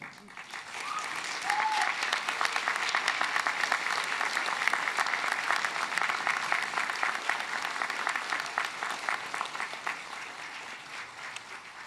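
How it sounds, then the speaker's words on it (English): A graduation ceremony audience at a university gives sustained, loud applause, dense clapping from a large crowd that builds quickly and holds steady for several seconds before easing slightly. "give them a rousing round of applause, because they too have earned it"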